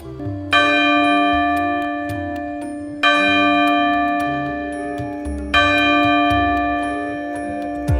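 A large ashtadhatu (eight-metal alloy) temple bell of about 150 kg, hung above a Nandi statue at the 64 Yogini temple in Bhedaghat, is struck three times at steady intervals, each loud strike ringing out and slowly fading.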